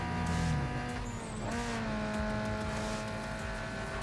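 Race car engine from Need for Speed Underground 2, with upgraded turbo and blow-off valves, revving and shifting in steady layered drones over a low rumble, loud and close, with a brief sharp squeal partway through.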